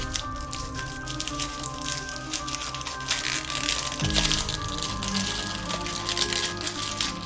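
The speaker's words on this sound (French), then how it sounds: "Nous allons d'abord déballer les pistolets." Packaging of toy blaster pistols being unwrapped, with continuous crinkling and rustling of plastic and cardboard, close and fairly loud, with no talking.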